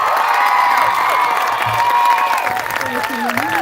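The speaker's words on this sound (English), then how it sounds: "Can we all please give her a round of applause?" Crowd applause and cheering at a rally against violence, loud sustained clapping with whoops and raised voices for several seconds, a mixed crowd including children's shouts.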